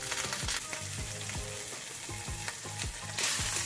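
Butter melting in a hot frying pan gives a dense, close, continuous sizzle, crossed by a few soft scraping strokes and swelling slightly louder near the end.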